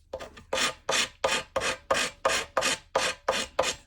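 Hardened J-B Weld SteelStik epoxy on a broken Santa Claus figure rasped with a cheese-grater-like file, a close series of about ten rhythmic scraping strokes, each a harsh rasp with short pauses between.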